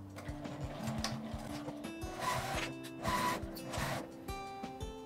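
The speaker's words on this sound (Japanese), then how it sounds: "ファスナーの端から 1、2 ミリのところを縫います。" A sewing machine stitches a zipper on a thin-fabric medicine notebook case, its needle pulsing in quick steady bursts with brief pauses, close and moderately quiet with no talking.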